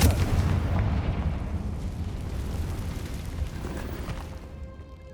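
In a video game, a Confringo explosive spell goes off as a loud booming burst at the start, then a long rumbling roar slowly fades over several seconds.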